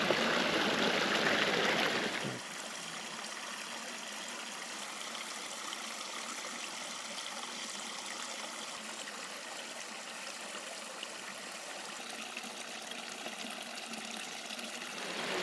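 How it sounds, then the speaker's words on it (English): Steady rushing and trickling of small water cascades over rock in Shenandoah, continuous and close, with a brief louder burst of flow at the very start. "There's like these cool little waterfalls coming in along the rocks here."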